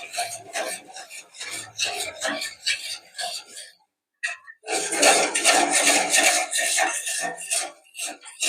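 Crushed biscuit chocolate-ball mixture being stirred in a pan on a medium flame, with continuous close gritty scraping and rasping strokes, one brief pause midway, then rougher, louder scraping.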